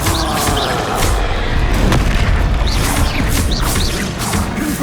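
In the Hogwarts Legacy video game, a Confringo blasting-spell explosion sounds as a loud, dense, continuous roar of booming blasts and crashing debris that sustains with no pause.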